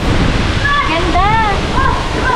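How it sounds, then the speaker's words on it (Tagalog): Bomod-ok Falls in Sagada gives a loud, steady rushing roar of water close by, while a person talks over it. "Okay, Bomod-ok Falls."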